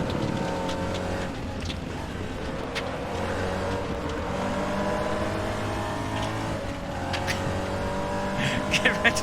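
Race car engine in the Race Room racing sim, a steady droning engine note with shifting pitch as it revs, under continuous talk, with a few sharper sounds near the end.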